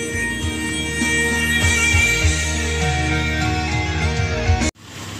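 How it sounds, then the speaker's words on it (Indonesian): A 1993 Suzuki Vitara JLX 4x4 engine idles steadily and smoothly, a close, even hum with faint rhythmic low pulses and high whine, then cuts briefly before resuming. "Suara mesinnya masih halus, gak pincang, masih stabil"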